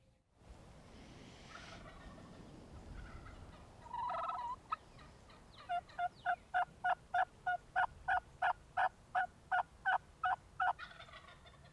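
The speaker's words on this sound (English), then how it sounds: "we hear a gobble in front of us" A wild turkey gobbles once at a distance, followed by a long, steady series of evenly spaced clucking calls.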